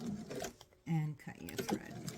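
A home sewing machine runs in a short burst while sewing a travel pouch, stitching backward to lock the seam and then forward again, heard close up between stretches of someone talking.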